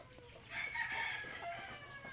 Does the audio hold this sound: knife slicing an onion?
no